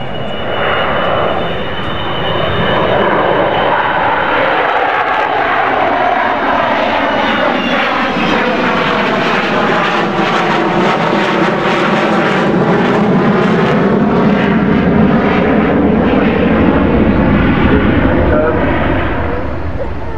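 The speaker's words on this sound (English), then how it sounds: "She flies over our heads. She's doing a lowish overshoot." Avro Vulcan XH558 jet bomber roars low overhead at the Farnborough International Airshow, a loud, sustained engine howl with sweeping pitch shifts as it passes, alone without talk.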